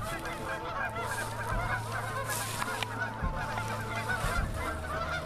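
Geese honking repeatedly in irregular overlapping calls, moderately close and steady over a low background, with no talk.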